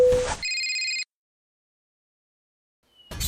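A telephone rings in a short electronic burst, close and clear, followed by silence until faint noise creeps back at the end.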